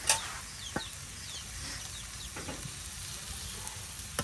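Gourd leaves sizzle in a hot pan, a soft, steady frying hiss with a few sharp clinks and stirring knocks scattered through it. A faint rooster clucks in the background.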